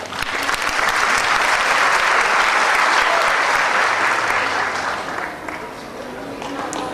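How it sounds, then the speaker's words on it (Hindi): Sustained applause from a large crowd at a student motivational seminar, loud and dense, easing slightly toward the end. "तालियां रुक गई।"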